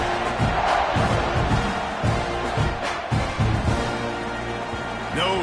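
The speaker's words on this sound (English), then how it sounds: "this crowd is feeling themselves after that last drive" A college football stadium crowd roars before a kickoff, a broad wall of cheering and yelling with rhythmic surges and thumps, partly under a commentator's voice.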